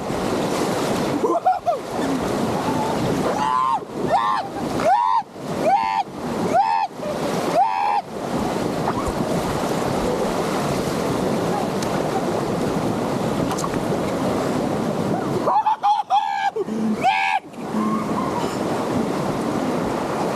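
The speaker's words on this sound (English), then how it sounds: "Big wave! Big wave!" Roaring white water rapids rush steadily and loud throughout, with wind buffeting the microphone and a few short splashes or thumps breaking through near the start and again toward the end.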